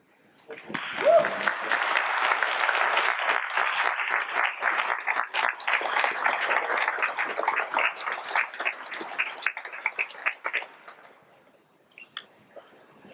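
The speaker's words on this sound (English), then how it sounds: "give a moving round of applause" Graduation honors ceremony crowd gives sustained applause, steady clapping for about ten seconds before tapering off to a few scattered claps and quiet.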